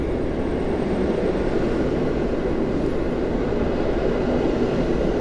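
Half-height railway wagons of a passenger train roll through Warszawa Centralna station in a loud, continuous low rumble and rush that holds steady throughout, with no voices.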